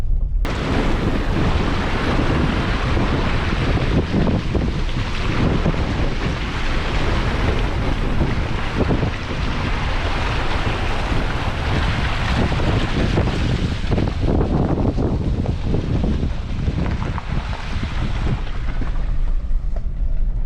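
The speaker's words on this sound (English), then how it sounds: "Going through the water crossing." Rushing, splashing water and heavy wind buffeting blend into a constant roar as an off-road vehicle pushes through a water crossing on the Mojave Road, with engine noise beneath.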